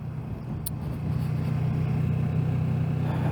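A Kawasaki Z650 motorcycle being ridden gives off a steady, close engine drone with a low throbbing hum that holds even and slightly swells, with no talking.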